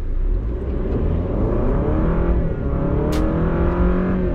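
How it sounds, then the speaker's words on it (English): An Alfa Romeo Giulia's gasoline engine revs up steadily, its pitch climbing smoothly as it accelerates, loud and close from inside the car. "And now we're going to accelerate."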